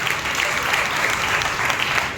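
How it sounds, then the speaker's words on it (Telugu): A church congregation at a worship service claps loudly, a thick, continuous wash of many hands applauding together in a reverberant room. "బిగ్గరగా చప్పట్లు కొట్టి ప్రభువుని భయపరచారు."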